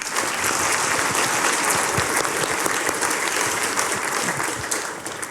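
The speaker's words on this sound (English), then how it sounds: "Give them all a big round of applause, please." An audience applauds panellists at a panel session: dense, continuous clapping from a crowd that tapers off in the final moment.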